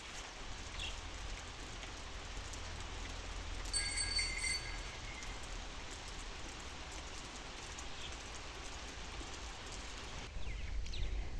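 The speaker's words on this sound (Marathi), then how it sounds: "आज वारा नाही आहे पण पाऊस भरपूर होतोय." Heavy rain pours steadily over wet farm fields on a windless day, a dense continuous hiss with no voices.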